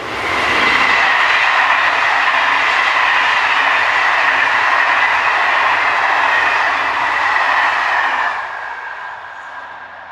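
A Siemens Class 19 electric locomotive hauling a train passes as a loud, steady rushing roar with a faint whine, sustained for several seconds before easing off at the end.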